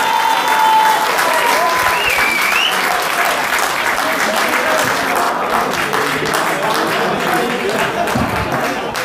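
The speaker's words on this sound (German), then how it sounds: "nochmal einen ganz, ganz großartigen Applaus für unsere Burschen der U14 und U15 SG Stetten-Korneiburg" Loud, sustained crowd applause at a championship celebration for under-14 and under-15 youth football teams, dense clapping holding steady throughout without fading.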